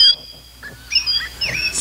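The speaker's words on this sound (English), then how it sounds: "press the little birds here, and as they are singing" A squeezable toy bird gives short, shrill birdsong-like chirps and warbles, close and fairly loud, in a few quick bursts with brief gaps between.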